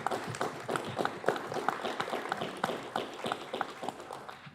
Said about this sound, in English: if we could give a round of applause, the staff